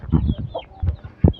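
Chickens clucking close by in a backyard coop, a few short, separate clucks and squawks in quick succession with brief pauses between them.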